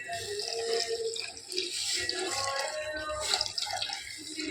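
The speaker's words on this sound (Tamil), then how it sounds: "இப்போ ரவை வேகிற அளவுக்கு தண்ணி" Steady running water pours into a pan of semolina for payasam, a continuous splashing wash with faint drips and clinks, fairly close and without talk.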